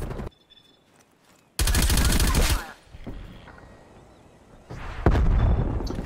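LC10 submachine gun firing in the Black Ops Cold War video game: two loud bursts of rapid automatic fire, one lasting about a second and a later one, separated by quieter game noise.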